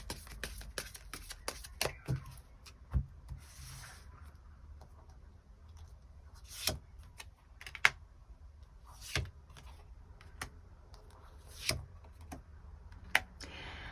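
Tarot cards shuffled and drawn by hand: soft irregular card flicks and sharper snaps scattered over a quiet background, close up, without speech.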